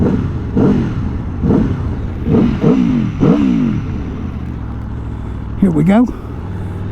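A 2023 Aprilia Tuono V4 Factory motorcycle accelerating hard through quick-shifted gears, a run of rising engine pulls cut by rapid shifts, then one more swelling rev, with a voice briefly over it.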